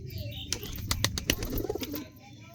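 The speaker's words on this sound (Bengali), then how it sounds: "তিনটে পায়রা একসাথে কেমন হাতে আসছে।" Three pigeons come to an outstretched hand for wheat, giving close bursts of wing flapping and soft cooing over a low rustling background.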